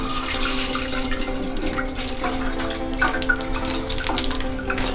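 Half a litre of milk is poured into a saucepan in a home kitchen for a sweet recipe, producing a steady close liquid splashing and gurgling stream throughout, fairly loud and alone.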